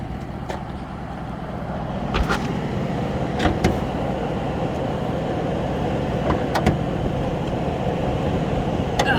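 The 5.4 Triton V8 of a 2010 Ford F150 idles steadily with the hood up, a low even rumble heard close with a few faint clicks and knocks, no talk.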